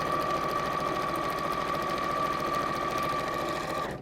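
A sewing machine top stitching a pleated bag, a loud close mechanical whir with a rapid steady needle rhythm that runs unbroken for about four seconds and then stops abruptly.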